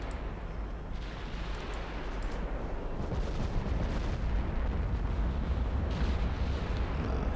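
Battleship artillery firing in the naval video game Ultimate Admiral Dreadnoughts: a continuous heavy rumble of distant booming salvos that swells louder partway through and rolls on steadily without any voices.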